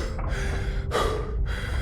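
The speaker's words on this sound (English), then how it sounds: "Thorn gasps," A man gasps sharply as a fine mist of atomized seawater sprays into his face from a pinhole leak in a high-pressure airline aboard a WWII submarine, the breathy intakes close and alone over a steady hiss.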